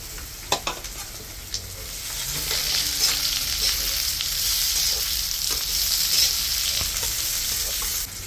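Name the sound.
slit green chillies frying in a pan for fish curry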